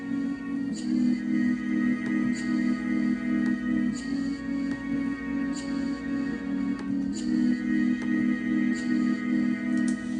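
Sustained synth chords are sidechained so they pulse and swell in a steady rhythmic pumping. They are heard alone at a moderate level in an electronic music production, with no drums.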